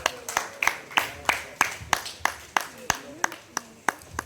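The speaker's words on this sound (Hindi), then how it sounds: "बहुत सारी तालियां जी।" Audience clapping at the opening reception of the drama Ishq Tere Sadqay, sharp claps landing in a steady, regular rhythm with voices faintly underneath.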